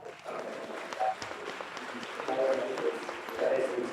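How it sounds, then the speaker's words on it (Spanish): Audience applause for the speakers at an academic panel on open educational resources, quiet and steady, with voices mixed in throughout. "vamos a brindarle un aplauso a nuestros ponentes, por favor."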